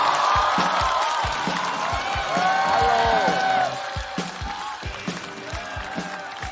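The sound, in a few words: audience applause welcoming a stand-up comedian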